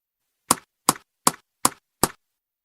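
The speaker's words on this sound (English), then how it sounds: "Tap." Five sharp taps ring out at an even, unhurried pace, each a crisp close knock with a quick decay, separated by clean silence.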